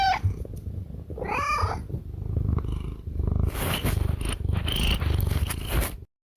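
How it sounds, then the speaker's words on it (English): A pet cat's recording plays loud and close: a continuous rumbling purr broken by a brief meow, ending abruptly in silence. "we've got to hear one of his many kitties Lance"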